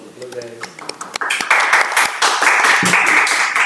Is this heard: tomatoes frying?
no